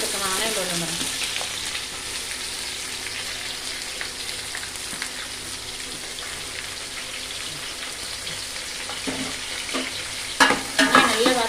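Whole biryani masala spices sautéing in oil in a pan, a loud, steady close sizzle throughout, with a few sharp stirring knocks near the end.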